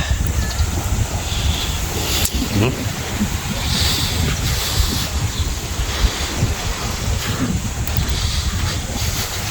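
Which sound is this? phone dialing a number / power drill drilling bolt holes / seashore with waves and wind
seashore with waves and wind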